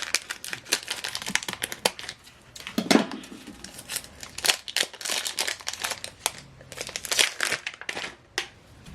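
Scissors snip and crinkle through plastic packaging of anti-UV sublimation ink in quick, uneven cuts, close up with rustling in between.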